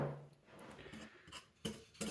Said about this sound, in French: c'est qu'on va venir mélanger nos deux farines